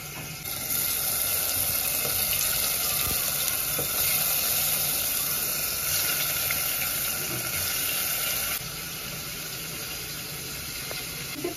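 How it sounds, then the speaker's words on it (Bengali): Paneer fries in hot mustard oil in a new wok with a strong, continuous sizzle, close and steady. The sizzle drops in level toward the end, and there is no talking. "তেল গরম হয়ে গেছে, এবার আমি পনিরগুলো ভেজে নেব।"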